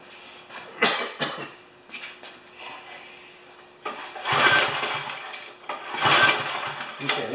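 A small choked engine sputters and catches after a couple of short cranking bursts, then surges into louder running in two stretches, close by with no talk.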